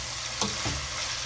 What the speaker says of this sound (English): And look how beautiful this onion is caramelizing.